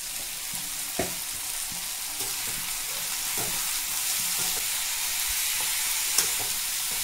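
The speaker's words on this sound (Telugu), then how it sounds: "ఉప్పు ఇలాగా వేపుకుందామండి" Potato pieces fry in a pan with turmeric and salt for a potato kurma, giving a steady, dense sizzle throughout with a few soft stirring knocks.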